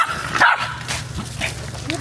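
Dog barking outdoors on a forest walk, a few sharp close barks and yips mixed with people talking nearby.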